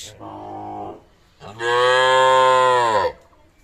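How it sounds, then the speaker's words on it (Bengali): Cows and calves on a village farm in Dinajpur, Bangladesh, low off, then a long, loud, drawn-out moo from close by, with no voices. "পিছনে কিন্তু রয়েছে গাভী গরুগুলো"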